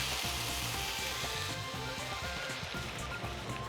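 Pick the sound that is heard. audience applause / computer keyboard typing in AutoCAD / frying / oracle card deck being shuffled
frying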